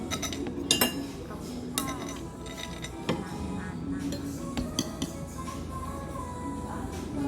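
Spoons scrape and clink against dishes while food is scooped at a Korean-style meal, with repeated close metallic and ceramic chinks as people talk in the background.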